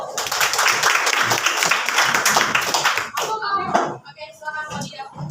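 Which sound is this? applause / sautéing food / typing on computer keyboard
applause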